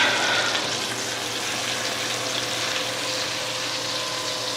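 Steak frying in a hot pan while butter and garlic are spooned over it, giving a steady, dense sizzle that holds evenly throughout at close range, with no talking.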